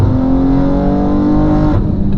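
A 700-horsepower BMW M2 engine revs loudly and steadily from inside the car while driving, with a continuous harmonic drone that holds pitch before easing off near the end.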